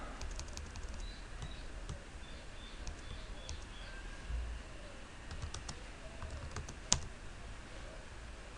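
Computer keyboard typing during router RIP configuration, heard as faint, scattered keystroke clicks over a low steady room hum, with no talking.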